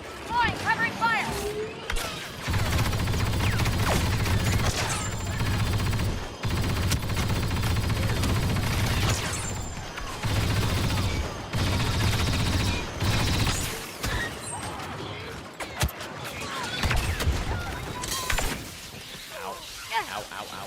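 Dense, continuous blaster fire and explosions from a Star Wars shooter game fill the scene in long loud bursts, with shouting voices over the battle.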